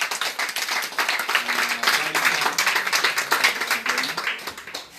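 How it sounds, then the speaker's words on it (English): Sustained applause from an audience at a police division lecture in Alagbado, dense steady clapping for five seconds with a faint voice or two underneath. "Please give our queens a very sound round of applause."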